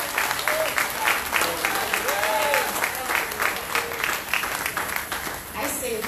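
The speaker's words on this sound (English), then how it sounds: "Give the Lord a resounding round of applause for his goodness." A worship congregation claps in a steady, dense round of applause at a Sunday divine service, with voices calling out and singing over the clapping throughout.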